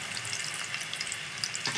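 Tamarind water, about a quarter kilo of tamarind dissolved, is poured into a pan of frying chilies and asafoetida, giving a steady, fairly faint hiss and sizzle with watery splashing throughout.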